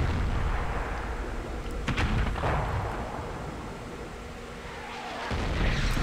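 Self-propelled artillery gun in World of Tanks firing a shell: a sharp booming report near the two-second mark followed by a rolling rumble that tails off, with engine drone underneath and another swell at the end.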